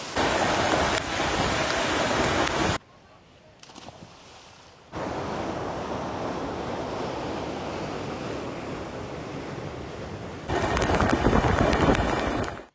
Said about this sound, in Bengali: কেমন হারে বৃষ্টি হচ্ছে। বন্ধুরা, কি অসাধারণ দৃশ্য, দারুণ দারুণ দারুণ, ঝরঝর করে জল ঝরে পড়ছে।